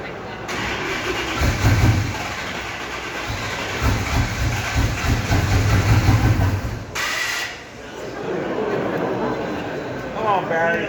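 A Ford Carlisle Shelby car is started at an unveiling event. The engine cranks, catches and rumbles through a loud idle with a brief dip partway, while people talk over it.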